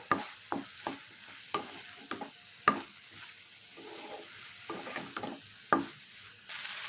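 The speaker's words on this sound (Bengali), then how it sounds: "এবার এর মধ্যে দিয়ে দিচ্ছি সিদ্ধ করা পাস্তা খুব ভালো করে এবার একটু এইভাবে মিশিয়ে নেব" Boiled pasta is turned and mixed in a pan: repeated close scrapes and soft clacks of a spoon, spaced out over a quiet, low sizzle.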